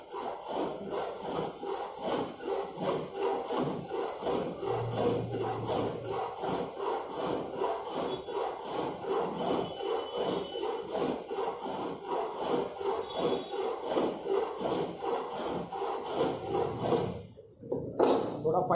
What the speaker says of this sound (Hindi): फाइलिंग के लिए हम लोग यूज़ करेंगे 12 इंच बस्टर्ड फाइल